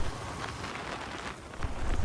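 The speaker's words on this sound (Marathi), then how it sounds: "पाऊस आला जोरात" Heavy rain pours down during a ride near Kamothe on the way to Khopoli, a dense steady hiss with a brief gust-like swell at the end.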